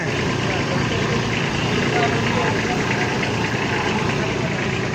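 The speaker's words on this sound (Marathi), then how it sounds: "आणि ट्रॅक्टर संग रोटावेटर आहे" A steady, rumbling engine of a new Kubota tractor with a rotavator idles close by without a break, with faint voices underneath.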